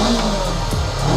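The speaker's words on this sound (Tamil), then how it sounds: "இது கிட்டத்தட்ட ஒரு 471cc இருக்க லிக்விட் கூல்ட் இன்ஜின் அண்ட் பயங்கர பவர்ஃபுல்" A Honda NX500 motorcycle's 471cc liquid-cooled engine revs close by, a loud continuous mid-pitched roar with a brief rising-and-falling blip midway.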